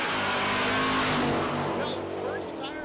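Drag racing cars launch side by side at Tulsa Raceway Park, a loud sustained roar of engines and spinning tires filling the whole stretch, with voices faintly beneath.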